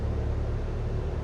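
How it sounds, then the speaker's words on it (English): Aircraft flaps extending in a flight simulator game, a steady broadband whir and rumble that holds at an even level throughout, with no talking over it. "That noise you're hearing is my flaps."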